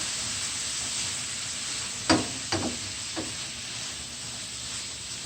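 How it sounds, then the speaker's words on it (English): Rasta pasta sauce simmers in a pan with a soft, steady sizzle and hiss, broken around the middle by three quick clattering knocks of a utensil against the pan. "Gonna let this simmer like for 2 to 3 minutes."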